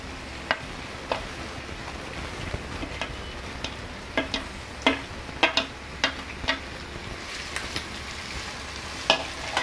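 Chopped onion and green chilli frying in hot oil with cumin seeds, a steady close sizzle broken by a dozen sharp ticks and clacks of stirring spaced irregularly across the clip.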